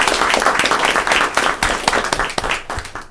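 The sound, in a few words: audience applause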